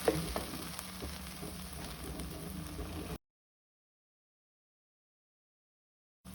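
Ground chilli paste fries in melted ghee with a steady, close sizzle and light crackles for about three seconds before the sound cuts to silence.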